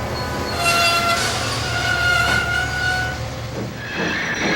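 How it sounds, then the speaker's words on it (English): A rumbling diesel locomotive brakes with a sustained high-pitched metallic squeal over a steady engine drone. "Whereas Mavis's brakes sound like this."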